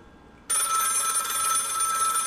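A telephone rings in a VRChat horror game, a sudden loud electronic bell that starts abruptly and then rings steadily without pause.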